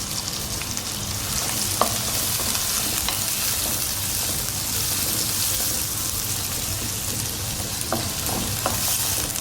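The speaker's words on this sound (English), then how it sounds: "Now you need to fry the onions till it becomes pink color, light pink." Onions and green chilies frying in a pan for masala dosa filling, a steady close sizzle running the whole time with a few faint stirring clicks and scrapes.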